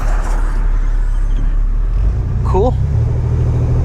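A 1993 GMC Sierra fitted with Aldan American coilovers rolls slowly through a neighbourhood with speed bumps, giving a steady loud cabin rumble and road noise, with a brief spoken word from inside.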